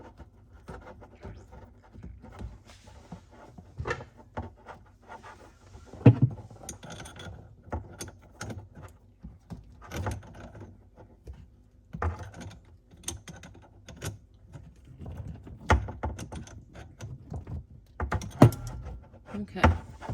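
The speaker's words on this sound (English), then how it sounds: "now this should screw together well" Plastic parts of a Waterdrop 15UAW-UF ultrafiltration under-sink water filter being screwed together, giving irregular close clicks, ratcheting ticks and scrapes that continue unevenly for about twenty seconds.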